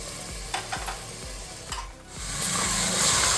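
Tomato paste mixture for tomato rice stirred in a pan, a spoon scraping in several rhythmic strokes over a steady sizzle that grows louder toward the end, close and alone without talk.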